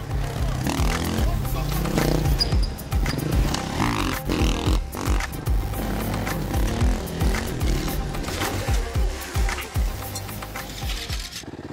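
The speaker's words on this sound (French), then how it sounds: "les jeunes du quartier nous ont préparé une parade et font ronfler les moteurs" Engines rev loudly and continuously as local youths stage a street parade in a Marseille neighbourhood, with voices talking over the rough, surging roar.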